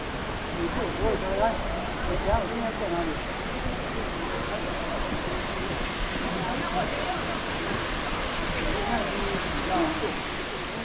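Waterfall at Takachiho gorge, swollen by high water among green pools and columnar rock, gives a steady broadband rush that stays even throughout, with faint voices underneath.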